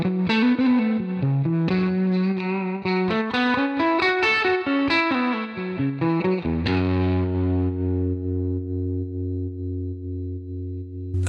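A Stratocaster played through a Universal Audio Dream 65 with the gain turned up, its clean notes beginning to break up into light distortion, a run of picked notes ending on a sustained, ringing chord that holds to the end, alone and fairly loud.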